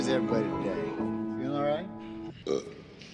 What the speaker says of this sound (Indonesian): bersendawa karena terlalu banyak minum bir